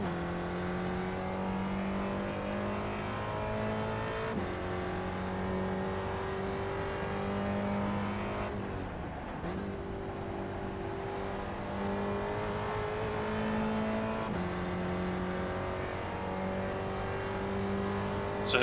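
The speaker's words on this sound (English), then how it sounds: "So the engine's got a little bit more power." A Spec Racer Ford Gen3 race car on the Mid-Ohio circuit in iRacing: the engine buzzes steadily at high revs, climbing through gears with clear upshift breaks every few seconds, loud and close for almost twenty seconds.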